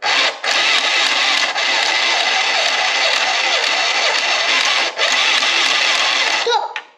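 A toy Barbie sewing machine whirs continuously as it stitches fabric, a loud buzzing motor with two brief dips where the pedal is released, then stopping abruptly at the end.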